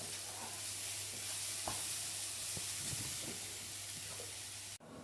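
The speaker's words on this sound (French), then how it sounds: "Là, je laisse cuire mes légumes maintenant." Vegetables for stir-fried Asian noodles cooking in a pan, giving a constant close sizzle with a low steady hum and a few soft stirring taps, which cuts off abruptly near the end.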